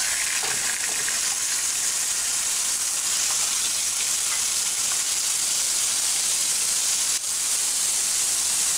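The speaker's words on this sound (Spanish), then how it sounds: "Vamos a poner en mi recipiente un poco de aceite generoso. Incorporamos el pollo." Chicken frying in a generous amount of oil produces a loud, continuous hiss and crackling sizzle heard up close and alone, steady from start to finish.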